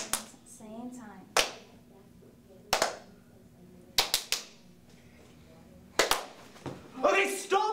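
Sharp single hand claps passed between players in a clapping rhythm game, sounding one at a time or in quick pairs at uneven intervals, with brief bits of talk in between.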